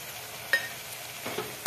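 Black masala, red chutney and ambari masala frying in oil for amti, a soft background sizzle broken by a few scraping stir strokes, close and brief, with no speech.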